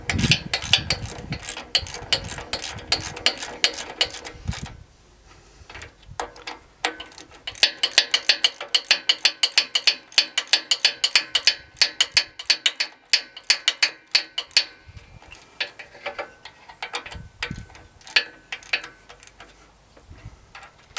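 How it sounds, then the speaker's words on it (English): A supplied hand tool tightening bolts on a skid steer sickle bar, giving rapid ratcheting clicks in bursts, close and fairly loud, with pauses between runs. "there's the tool that came along with your sickle. Just going to use that to tighten it down"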